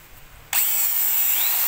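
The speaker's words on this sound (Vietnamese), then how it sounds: "Rồi cái này là chế độ búa." A power drill switched to hammer mode starts abruptly after a short quiet moment, then whines loud and steady at close range for over a second.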